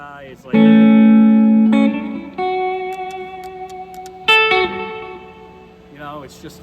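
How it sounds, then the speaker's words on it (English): Clean electric guitar notes ring out one after another through a reverb-like effect pedal, each sustaining with a smooth, spacious tail that lingers as it fades. "it's kind of like a reverb almost."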